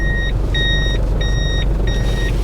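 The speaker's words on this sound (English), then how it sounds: "backup beep? No way." A 1994 Toyota Hilux Surf's reversing alarm sounds four evenly spaced electronic beeps, clear and close, over a low engine idle rumble.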